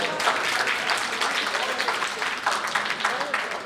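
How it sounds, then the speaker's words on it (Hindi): Applause from an audience at a Hindi-Urdu poetry celebration, honoring a married couple; steady dense clapping fills the whole stretch at moderate loudness with no pauses. "तालियां बजाइए मियां बीवी के लिए।"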